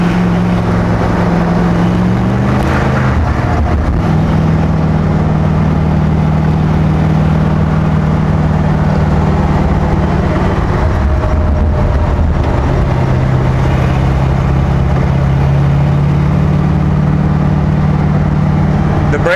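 A 1963 Chevy Corvair Monza Spyder with a swapped-in 283 V8 idles with a deep, steady, loud rumble, close by, with slight shifts in pitch as it runs on for nearly twenty seconds.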